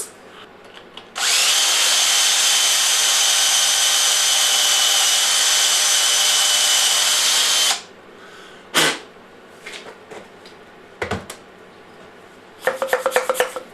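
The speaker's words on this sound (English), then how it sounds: "So we simply have to drill this to 5mm diameter." A power drill runs loudly and continuously for several seconds, boring a bike pump part to 5mm diameter, then stops, followed by scattered clicks, scrapes and handling noises.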